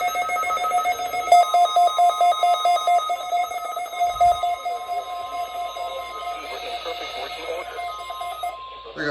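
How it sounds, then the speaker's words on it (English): Emergency Alert System weekly test tone from a weather radio broadcast: a steady electronic alarm of pulsing, ringing beeps that runs continuously for several seconds, loud and close, then gives way to a quieter broadcast voice. "Reception of this broadcast and the warning alarm will vary."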